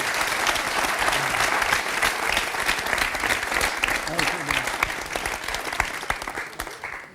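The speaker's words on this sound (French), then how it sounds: "Je vous demande d'applaudir Roger qui est avec nous." A studio audience on a French talk show applauds a guest named Roger, dense sustained clapping that stays loud and full for several seconds with a few voices faintly beneath.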